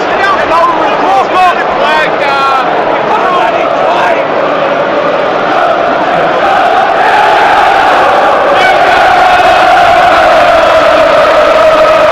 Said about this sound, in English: Crowds angry with the referee, finding a bit more noise.